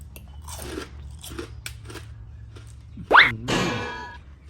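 Crispy fried pork cracklings crunch in a couple of sharp, close bites followed by brief chewing, quiet otherwise with faint background noise.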